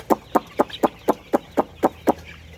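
Farm chickens clucking at feeding time, nine short, evenly spaced clucks in a steady rhythm, close and clear over a quiet barnyard background.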